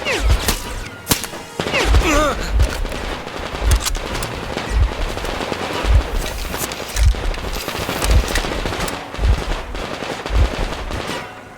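Gunfire in a Metro Exodus shootout: loud, close rhythmic bursts of shots roughly every second, over a busy wash of background battle noise, with no clear talk.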